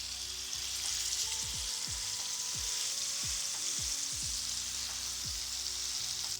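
Salmon fillets frying in a pan, a steady loud sizzle and hiss throughout, with occasional soft low knocks of the pan or utensils; no voices.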